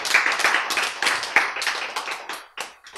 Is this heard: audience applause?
yes